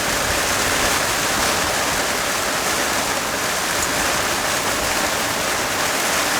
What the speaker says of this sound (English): There is a lot of rain coming in.